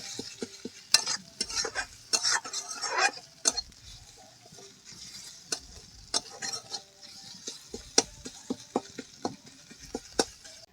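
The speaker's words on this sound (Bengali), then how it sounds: "দিয়ে দেবো আদা রসুন বাটা ভালোভাবে মিশিয়ে ভেজে নেব" Ginger garlic paste sizzles softly in a hot pan while a spoon scrapes and stirs repeatedly, giving sharp irregular clicks over a quiet frying hiss.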